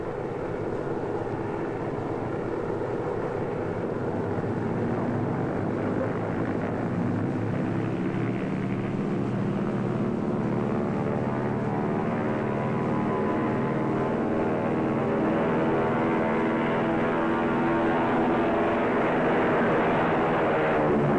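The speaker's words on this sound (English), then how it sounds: "You may take off on runway C." A 1940s propeller airplane on an airport runway gives a steady, loud engine drone that swells as it takes off, with no speech.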